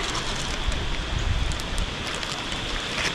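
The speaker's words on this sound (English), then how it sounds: "it's pouring rain" Heavy rain pours steadily over a camping spot, a dense, constant hiss with low rumbling patter and no break, loud and close throughout.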